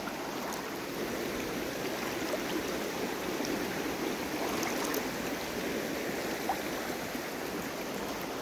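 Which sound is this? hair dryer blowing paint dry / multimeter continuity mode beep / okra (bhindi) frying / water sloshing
water sloshing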